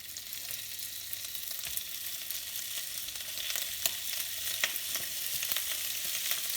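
Ham frying in a very hot oiled pan gives a steady, bright sizzle with crackling pops scattered through it. The hiss grows slightly louder near the end, and no one speaks.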